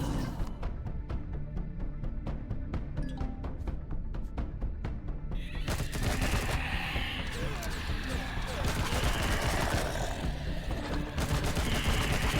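Sniper fire and other gunshots from the space survival game Empyrion with the Reforged Eden 2 mod, sharp repeated cracks in quick succession over a dense, noisy game soundscape, with a voice talking at points.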